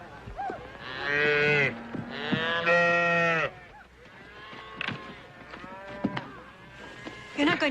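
Cattle on a ranch moo loudly and close, two long drawn-out lows followed by shorter calls and lowing, with ranch noise around them and no clear talk.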